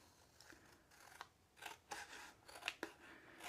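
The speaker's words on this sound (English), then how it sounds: "I'm just going to take some scissors real quick and cut that" Scissors snip through collage paper for a handmade card, making a run of quiet, crisp cuts that come faster and louder toward the end, close up with no talking.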